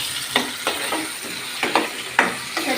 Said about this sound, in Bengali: সিদ্ধ করে দিচ্ছি না, আমি ভেজে নিব তেলের মধ্যে।